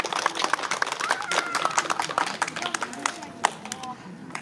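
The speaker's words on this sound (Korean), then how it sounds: "큰 박수 부탁드리겠습니다." Clapping from a crowd at the opening ceremony of a tennis festival camp in Pyeongchang, loose and uneven with distinct individual claps, while voices murmur and call out underneath.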